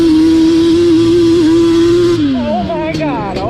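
A Yamaha Banshee drag ATV roars loud and close at a steady high pitch, then launches in first gear as the engine note climbs sharply, with faint voices underneath.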